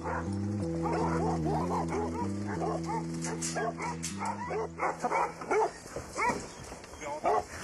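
Several Alaskan sled dogs bark and yip in quick bursts, with a whimpering tone mixed in, close by and fairly loud against a steady background hum.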